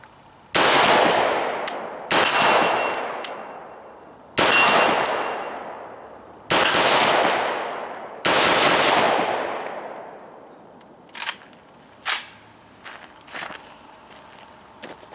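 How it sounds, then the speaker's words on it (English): Several loud, sharp gunshots from an Arsenal SGL 31-94 AK-74 rifle in 5.45x39, fired singly at irregular intervals, each with a long ringing decay, then a few fainter clanks and knocks. "now we're going to go ahead and shoot this Arsenal Arms gun"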